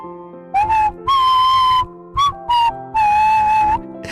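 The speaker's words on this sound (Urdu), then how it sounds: "وہ اتنی خوبصورت آواز میں سیٹی بجاتا تھا کہ قصبے کے لوگ صرف اس کی سیٹی کی آواز سننے کے لیے اس سے کپڑے سلواتے۔" A village tailor whistles a cheerful tune in several melodic phrases of differing length, clear and close, with short pauses between them and no talking.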